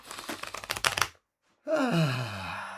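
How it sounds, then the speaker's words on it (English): Cards riffle quickly for about a second, a dense crisp fluttering, then a pause followed by a sustained tonal sound. "let's hear those cards"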